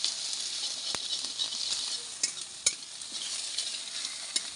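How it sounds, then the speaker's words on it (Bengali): Egg frying and being stirred in a wok of hot oil for a Bengali egg and masoor dal dish, a steady close sizzle with occasional sharp scrapes and clicks of the spatula. "ঝুড়ো ঝুড়ো করে একটু ভেজে নেবো ডিমটা"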